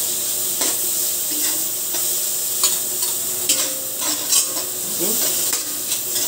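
Onion and garlic sautéing in margarine for pork belly sinigang crackle with a close, steady sizzle, punctuated by occasional stirring scrapes and small utensil clinks, with no voices.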